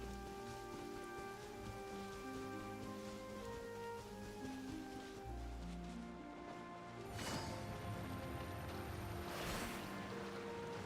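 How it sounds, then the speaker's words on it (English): Steady rain hisses down in the Genshin Impact video game as a continuous, moderately loud wash, with surges of heavier downpour toward the end. "It's raining again?"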